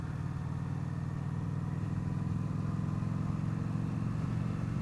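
Victory Octane motorcycle with an Arlen Ness big brake kit being ridden, its mid-pitched engine drone steady and close throughout, running alone without any voices.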